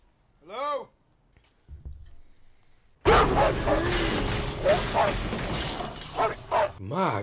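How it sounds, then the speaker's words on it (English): A dog in the horror film Friday the 13th (2009) gives a short high yelp, then barks amid a loud, dense movie soundtrack with voices and crashing noises. "My God, what kind of dog is that?"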